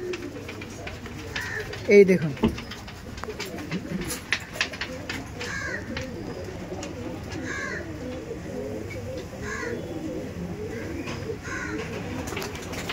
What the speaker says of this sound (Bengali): আর এক জোড়া রয়্যাল দেখুন আর এক জোড়া রয়্যাল টেডি দেখুন